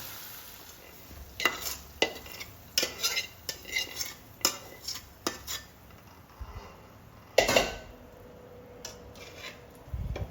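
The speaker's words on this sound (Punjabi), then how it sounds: "ਹੁਣ ਇਹਨੂੰ ਆਪਾਂ ਸਬਜ਼ੀ ਵਿੱਚ ਮਿਕਸ ਕਰ ਦੇਣਾ" A spoon stirs spice masala through an aloo arbi vegetable curry in a pan, giving repeated close scrapes and knocks against the metal over a faint sizzle, with a sharper clatter partway through.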